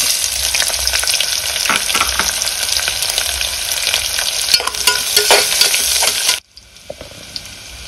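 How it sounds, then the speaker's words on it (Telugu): Thinly sliced onions frying with cashews in oil inside a pressure cooker, a loud, dense crackling sizzle with stirring clicks, cutting off sharply to a quieter hiss near the end. "ఈ విధంగా వేగిన తర్వాత ఉల్లిపాయ ముక్కల్ని కట్ చేసుకుని వేసుకోవాలండి."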